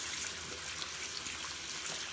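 Steady hiss of tap water running over a makeup brush being rinsed in a sink, continuous and fairly soft, with no voices.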